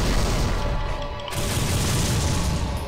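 Gunfire in the PS2 video game Devil May Cry, muffled booming shots and bursts playing steadily at moderate loudness over a dense game soundtrack with no talking.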